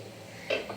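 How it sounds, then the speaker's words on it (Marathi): A metal vessel set down inside a pressure cooker gives a single short metallic clink, close and fairly soft, followed by a fainter tap against a quiet background. "हे भांडं आहे ना आपल्याला असंच कुकरमध्ये ठेवून द्यायचं आहे"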